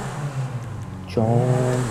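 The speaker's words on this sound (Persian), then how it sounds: "صدای ناله کردن موتور ماشینه" A Lamborghini engine in GTA V rises into a loud, steady revving whine partway through, after a quieter stretch of low engine idle.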